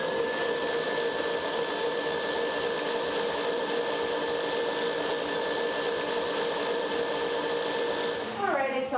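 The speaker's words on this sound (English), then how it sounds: "We're going to use a whisk attachment and put it in our KitchenAid." A KitchenAid stand mixer fitted with a whisk attachment beats cake batter in a steady, continuous whirring motor drone, loud and close for the whole stretch, with a brief shift in pitch near the end.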